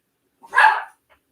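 A single short, sharp dog bark, close and loud, followed by a faint tiny yip.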